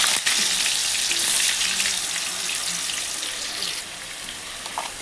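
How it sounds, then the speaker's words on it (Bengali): Potatoes frying in hot oil in a wok, giving a steady, close, broadband sizzle that runs unbroken with no talking. "আমি এবার আলুগুলো একটু হালকা করে ভেজে নেব"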